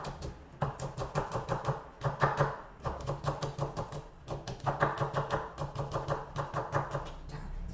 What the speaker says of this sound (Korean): 맞춰서 계단 썰기 합니다.